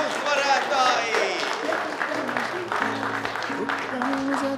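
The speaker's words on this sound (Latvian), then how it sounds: "aplausi gada noslēgumā turnīra uzvarētāji" A crowd applauds the winners of a year-end bridge tournament at a VIP evening. The clapping is a moderate, sustained patter partly covered by voices talking over it.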